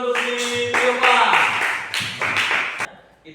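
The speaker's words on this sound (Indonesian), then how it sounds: "Kasih tepuk tangan dulu untuk si Yohan." Audience clapping for someone during a church sermon, a burst of hand claps under a raised voice for about three seconds before tailing off.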